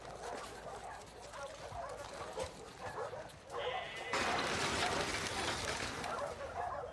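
A dog in The Last of Us Part 2 barks and whimpers among busy game ambience and a voice speaking, growing louder and denser in the second half.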